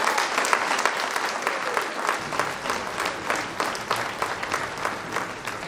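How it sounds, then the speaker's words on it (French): An audience at a town medal ceremony in Tarnos applauds steadily, a dense close wash of clapping that holds at an even level throughout. "que l'on peut applaudir."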